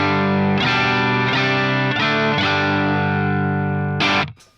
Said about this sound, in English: So my cleanish tone going straight into the amp